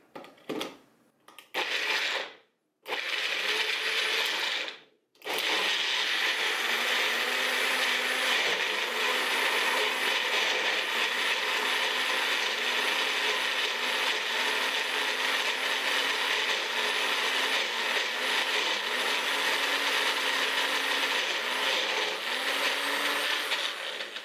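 A Magic Bullet blender whirs steadily and loudly as it processes ingredients with salt and water, after a few short start-stop pulses at the beginning; the continuous motor drone holds with no talking.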